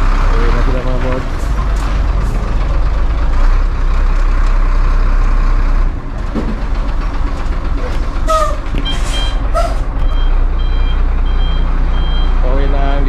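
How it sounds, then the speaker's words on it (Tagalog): A delivery truck pulls away with steady reversing beeps over a loud, rumbling engine, while people talk nearby. "Pauwi na ang delivery truck natin."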